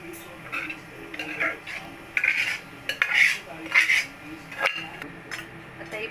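A metal spoon clinks and scrapes against a pan in a steady series of stirring strokes, mixing cooked vegetables for pav bhaji, fairly close and moderately loud.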